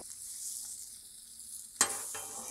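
Butter and pierogies fry on a flat griddle with a soft, steady sizzle and faint crackle. About halfway through, a louder burst of sizzling and scraping comes as the food is stirred, and there is no talk.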